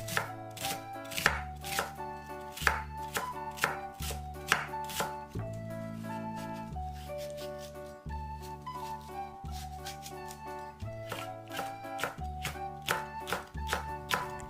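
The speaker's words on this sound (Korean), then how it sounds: "양파는 다져 썰기, 청원고추는 칼집을 주어 곱게 썰어줍니다." A knife finely chops onion and green chili peppers on a board in quick, steady, close strokes, with a pause partway through. Background music plays throughout.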